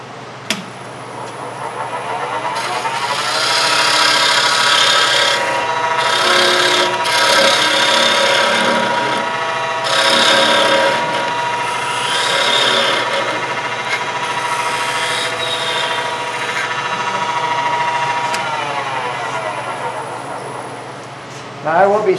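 A lathe tool cuts a laminated wooden bowl during woodturning, giving a steady, loud scraping and rubbing with a humming, ringing tone that runs continuously for about twenty seconds.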